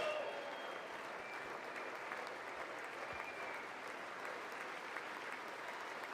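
Applause fills the chamber at the State of the Union address, a steady wash of many hands clapping heard at a distance, fairly faint and unbroken, with a few low thumps mixed in.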